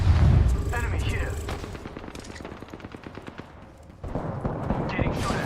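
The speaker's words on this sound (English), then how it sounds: "Getting shot at." Rapid automatic gunfire in an Apex or PUBG battle, dense bursts of shots rattling on steadily with a sharp loud onset, a brief dip, then firing resuming, with a voice talking over the action.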